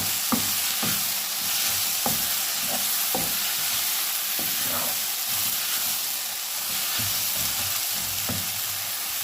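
Chopped onions sizzle steadily in a pan as their water cooks off before a little oil goes in for a rohu fish bhuna, with scattered spoon stirs and scrapes over a constant close hiss.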